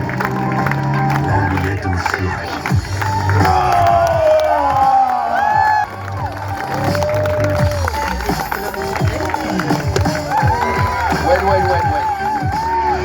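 Circus audience in Quebec City clapping and cheering, a lively mix of applause, shouts and whoops with a brief lull midway, voices and chatter mixed through the crowd noise.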